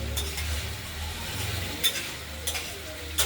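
Spice paste of cumin, ginger, chilli and melting tomato is sautéed in a pan for pabda fish curry, a soft low sizzle with scraping stirs and a few sharp spoon clinks.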